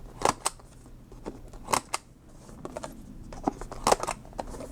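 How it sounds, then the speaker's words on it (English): Scissors snip the sharp corners off a clear plastic planner pocket, giving a series of crisp, close clicks and cuts at an irregular pace with quiet handling noise between them. "You could also just snip those sharp corners off with your scissors."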